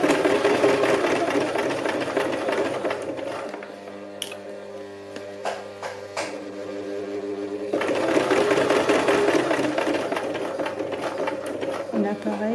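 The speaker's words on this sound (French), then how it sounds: "Ici, on peut continuer au point droit jusqu'au prochain angle." A sewing machine running a straight stitch on fabric for a bag, a steady mechanical whirr that stops briefly in the middle for a few clicks and taps, then starts again. A voice talks over it.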